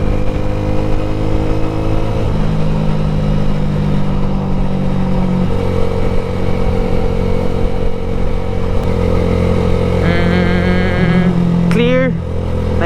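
A motorcycle fitted with an Akrapovic exhaust and silencer idles and revs in the street, a steady loud engine drone with a rising rev near the end, while people talk over it.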